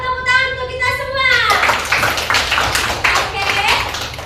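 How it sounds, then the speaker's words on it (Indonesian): A classroom of children claps together in a burst of rhythmic, fairly close hand claps, following a teacher's sung or spoken cue at the start. "tepuk tangan untuk kita semua"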